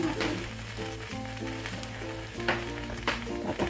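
Cassava cake wrapped in banana leaf sizzles in a heated pan, a steady close frying crackle with a few sharper pops and light scraping.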